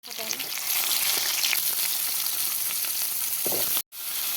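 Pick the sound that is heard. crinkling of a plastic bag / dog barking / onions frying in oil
onions frying in oil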